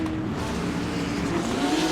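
A pack of race cars in Assetto Corsa pulls out of the pits as a steady, droning engine hum with faint tire squeal, without any talking.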